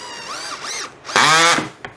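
A cordless power drill whirs in short bursts while driving screws into wood pieces for a garage tool organizer, close and fairly loud, with a brief final whir.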